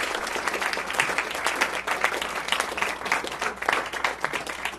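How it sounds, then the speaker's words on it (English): An audience applauds after a lecture on Black history in Alachua County, a dense, continuous burst of many people clapping at moderate loudness with no voices over it. "let's give Dr. Dunlap another round of applause"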